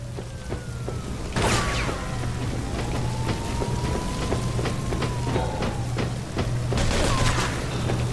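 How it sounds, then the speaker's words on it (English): Gunfire from Joe in Mafia 2, a string of sharp shots spread through a noisy, rain-like ambience, with a couple of louder bursts near the start and end. "I know Joe's shooting at people up there"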